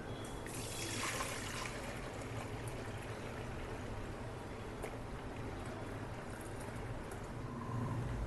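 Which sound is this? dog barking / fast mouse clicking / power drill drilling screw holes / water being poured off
water being poured off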